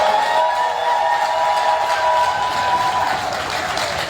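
Crowd applause for the president at a political address to a diaspora gathering in Chicago, continuous clapping with a sustained tone running beneath it, moderately loud throughout.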